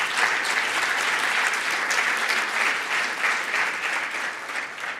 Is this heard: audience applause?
yes